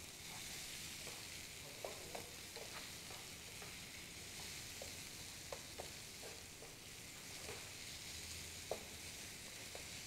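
Tomatoes sautéing in a pan give a steady, even sizzle with scattered small pops and stirring clicks, no talking, close and moderately quiet throughout.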